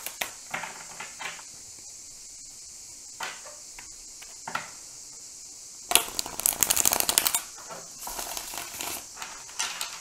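Tarot cards being shuffled by hand, a few soft riffling flicks early on, then a louder, crisper burst of card shuffling in the second half, close and quiet overall with no talking.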